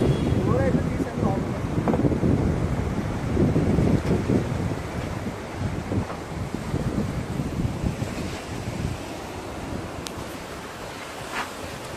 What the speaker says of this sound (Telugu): ఆ గాలి అయితే చాలా బాగా వస్తుంది.